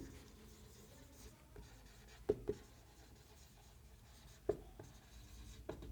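Chalk or marker writing on a classroom board during a chemistry lesson, faint scratchy strokes with a few sharp taps scattered across several seconds, no talk.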